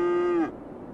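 A cow in the city-building game Cities Skylines lets out a single loud, sustained moo lasting about half a second, cutting off sharply into quiet background.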